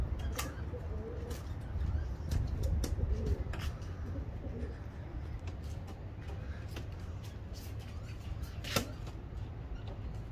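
Pigeons cooing softly at fairly close range, low repeated coos against a quiet background with occasional sharp ticks and clicks.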